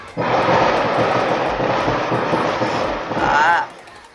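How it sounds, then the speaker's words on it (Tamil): Loud, continuous crackling bursts of firecrackers going off outside during a birthday celebration, filling about three and a half seconds with a rough, dense roar that swells again near the end. "பட்டாசு அவனுக்கு அடிக்கிறானுங்களா யாருக்கு அடிக்கிறாங்கன்னு தெரியல"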